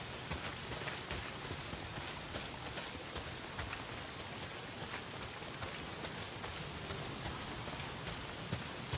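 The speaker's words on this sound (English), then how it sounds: "Well, not if it's pissing down rain." Heavy rain pours steadily in the video game Days Gone, a dense, loud, even hiss of drops on surfaces that stays unbroken throughout, with no talking.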